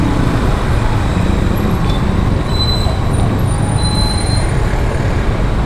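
Heavy evening rush-hour traffic in Metro Manila makes a steady, loud roadway rumble, with buses and cars idling and creeping, broad low noise throughout and faint high squeals over it, no talking.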